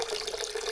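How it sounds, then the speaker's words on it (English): Water rushes out of a draining water line in a steady, close hiss and gurgle, brief and continuous with no voices. "Shut it off again. The whole line drains out."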